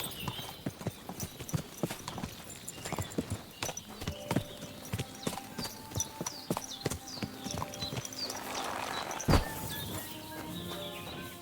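Horse hooves clip-clop along a street in the medieval game Kingdom Come Deliverance 2, a steady sequence of sharp hoof strikes at a moderate distance over a busy town ambience with faint voices.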